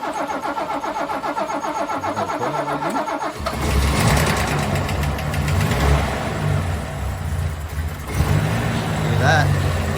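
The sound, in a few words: VG Valiant truck engine running after rocker fix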